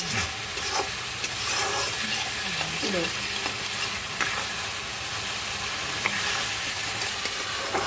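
Spice paste sautéing in oil over a high flame for a Bengali cottage cheese curry, a loud continuous sizzle with repeated stirring scrapes and clinks throughout, no talk.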